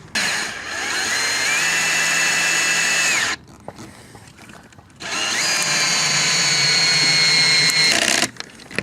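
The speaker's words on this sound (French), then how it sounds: "Là on est en bois de boue donc c'est plus facile à visser" A power drill drives screws into soft wood while building a terrace deck: two sustained whirring runs of several seconds each, loud and close, separated by a short quiet pause with faint clicks.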